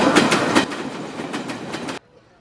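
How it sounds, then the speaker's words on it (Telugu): Passing train heard in the background of a phone call on the road from Chilakaluripet to Bapatla, a loud rhythmic clickety-clack of wheels over rail joints that cuts off abruptly. "వెనక ట్రైన్ పాస్ అయ్యే సౌండ్ వచ్చింది"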